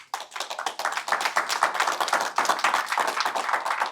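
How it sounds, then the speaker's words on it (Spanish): A church congregation claps together in quick, steady, rhythmic bursts that stay strong and dense for several seconds, with no talking over it. "Dele un aplauso al Señor"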